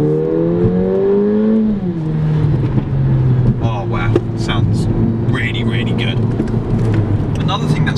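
A Mercedes-Benz A45 AMG turbocharged engine revs loudly up close, its exhaust note rising then dropping into a deep drone, with crackles and pops through the exhaust as a voice talks over it.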